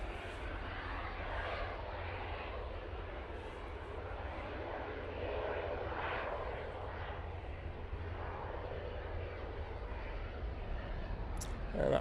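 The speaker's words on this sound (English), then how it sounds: "there's your EasyJet, about to rotate" EasyJet airliner on its takeoff run at Manchester Airport, about to rotate, a faint, distant steady engine rumble with a low roar, blending with soft background noise.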